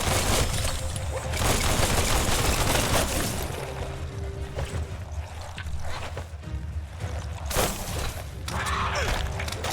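Guns fire in Biomutant in rapid bursts of dense, crackling shots amid loud game noise and mechanical clatter, easing in the middle before a final heavy burst.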